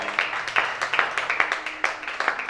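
Church congregation clapping in a rapid, irregular rhythm of sharp hand claps, loud and close, continuing throughout with no speech over it.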